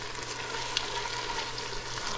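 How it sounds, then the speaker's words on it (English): Shredded carrots and mixed vegetables sauté in a pan with a steady, soft sizzle that stays even throughout, with no talking over it. "I shredded some carrots and I added into the vegetables. I'm going to let this all saute for a while."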